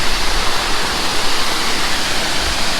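Steady, dense roar of Laurel Fork Falls in the Jocassee Gorges, a constant broadband rush of falling water filling the scene at close range with no voices.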